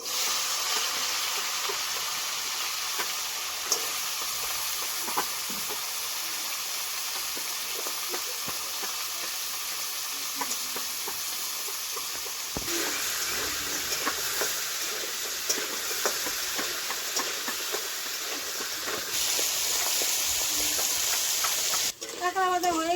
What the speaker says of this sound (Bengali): কাঁকড়া ভাজা হয়ে গেছে